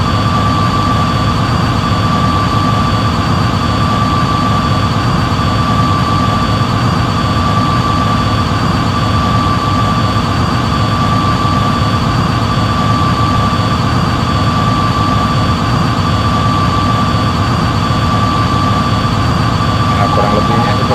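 Airliner jet engines droning in cruise in a flight simulator game, a loud constant broadband roar with a steady high whine, unchanging for the whole stretch, no voices.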